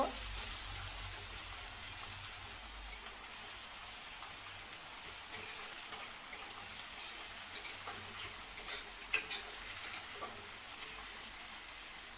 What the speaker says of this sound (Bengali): ভালো করে ভাজা করে নিতে হইব